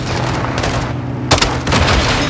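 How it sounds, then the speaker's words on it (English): Launcher fired during a Call of Duty Modern Warfare II firefight: a sharp blast punching through dense rumbling combat noise, with more bursts and booms following closely. "Gaz, hit with the launcher."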